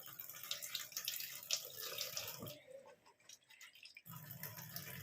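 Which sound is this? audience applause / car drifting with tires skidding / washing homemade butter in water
washing homemade butter in water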